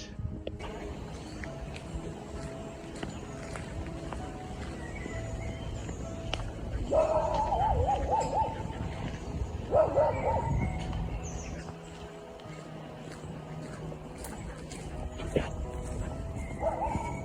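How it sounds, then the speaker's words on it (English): A few short barks from a dog somewhere in the distance in Epping Forest, two brief bursts over steady outdoor wind and ambience. "The dogs barking in the background."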